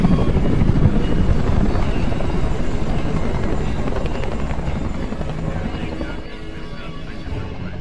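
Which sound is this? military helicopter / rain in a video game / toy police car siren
military helicopter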